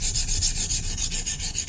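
A dull kitchen knife is drawn across the coarse side of a sharpener in quick, even rasping strokes, about ten in under two seconds, close and continuous.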